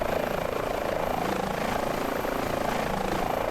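Simulated Airbus H145 helicopter in Microsoft Flight Simulator 2020 with its engines at full spool, a steady, loud turbine and rotor roar holding constant throughout with no talk.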